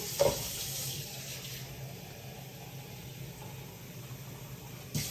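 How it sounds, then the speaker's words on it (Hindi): Cold water pours steadily into a cooking pot while arbi patra, colocasia leaf rolls, are being prepared. The flow is a continuous, moderately quiet rush with a brief louder splash at the start and again near the end. "तो सबसे पहले हम इसके अंदर डालेंगे पानी, ठंडा पानी डालेंगे।"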